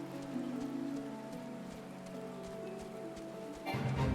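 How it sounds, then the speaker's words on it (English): Steady rain falls in the Shroud forest of Final Fantasy XIV, a soft continuous patter over a low hum of game ambience, with a brief louder swell of rain near the end. "And it's raining now."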